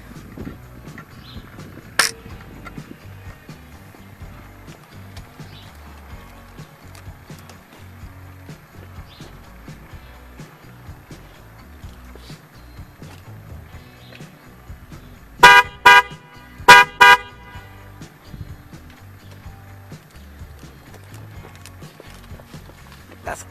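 Replacement Maxi Sound car horns on a Nissan Versa, one high tone and one low, beep in a quick burst of about four short honks, clear over a quiet background with faint rumble.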